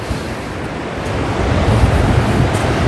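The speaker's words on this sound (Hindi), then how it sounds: "ठीक हमारे नीचे नदी जा रही है" Mountain river in Urgam Valley, Uttarakhand, flowing beneath a bridge, a steady broadband rushing roar heard from above, fairly loud and constant, swelling slightly toward the end.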